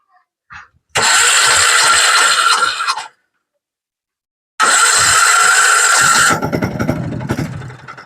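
An old-model Bajaj RE diesel auto rickshaw engine cranks loudly twice, stopping briefly between attempts, then catches and settles into a rough, chugging idle close by.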